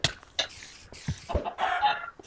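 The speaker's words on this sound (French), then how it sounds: "Regarde, un petit bébé poulet" Chickens in Minecraft let out a quick series of clucks and squawks, close and fairly loud in short bursts, with no talking.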